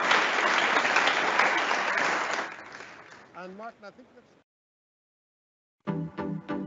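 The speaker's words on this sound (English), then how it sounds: "big round of applause, ladies and gentlemen." A brand-launch event audience breaks into loud applause that fades over a couple of seconds, followed by music, a short silence and then more music.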